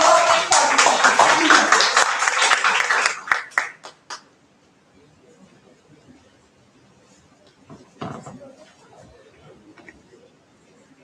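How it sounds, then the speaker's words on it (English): Audience at a pharmaceutical institute academic session clapping to welcome a professor chairing the session; a loud burst of dense clapping for about three seconds, thinning into a few scattered claps, then quiet murmurs and a brief voice. "A big clap for"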